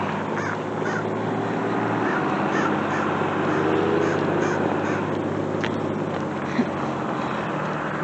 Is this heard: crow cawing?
yes